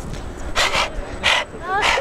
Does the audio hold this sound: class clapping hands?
no